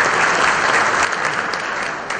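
An audience at a Pakistan investment and business forum applauds, a dense, loud, continuous clapping that holds steady and eases slightly toward the end.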